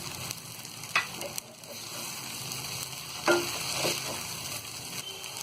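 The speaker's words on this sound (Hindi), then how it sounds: "अब हम स्प्रिंग अनियन का ये हरा वाला भाग डाल देंगे। एक बार और इसे हम मिक्स कर देंगे" Vegetable noodles stir-fried with spring onion greens in a pan, a continuous moderate sizzle broken by two or three louder stirring scrapes and tosses.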